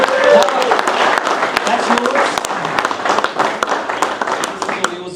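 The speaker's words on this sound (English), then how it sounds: "a round of applause for our non-boating Sam" A round of applause at a fishing competition presentation at Lake Glenmaggie, steady clapping from a small crowd running through the whole stretch with people talking over it.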